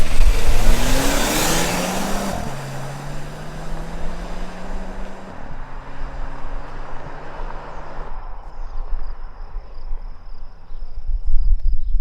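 A 2017 Volvo V90 T6 Cross Country with a 2-liter engine accelerates hard from 0 to 60 mph. The loud, steady engine note climbs in pitch, drops at each gear change, then climbs again, with no talk over it.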